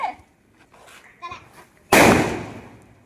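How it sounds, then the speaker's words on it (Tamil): Elephant firecracker bursting at a family Diwali celebration, a single sharp, loud blast that decays slowly, preceded by faint voices talking. "யானை வெடி சவுண்ட் எஃபெக்ட் எப்படி இருக்கு மக்களே?"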